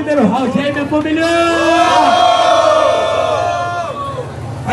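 Crowd at a Brazilian rap battle cheering and shouting loudly, a dense roar of voices with rising yells sustained throughout, close and full, with no single speaker standing out.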